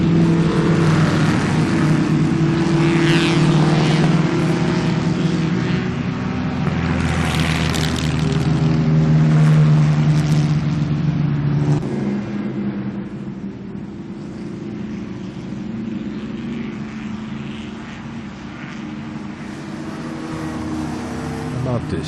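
A vintage 1935 Bentley race car drives on a race track at a vintage show. A loud engine drone swells and fades as the car passes, with voices talking over it.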